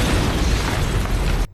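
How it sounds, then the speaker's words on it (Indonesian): A loud, sustained explosion in a film, as an underground drug-cartel tunnel is opened, roars with dense low rumble and broadband blast noise for over a second, then cuts off abruptly. "tiba-tiba sebuah ledakan terjadi."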